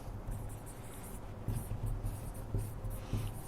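Prime factors written out by hand in a math class, heard as faint, close scratchy pen-on-paper strokes in short bursts, with quiet room noise between them.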